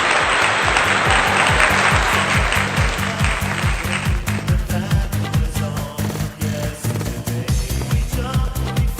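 Audience applause for children at a memory show, a dense loud clatter of many hands that starts strong, then thins out into scattered claps over a steady rhythmic low beat of background music.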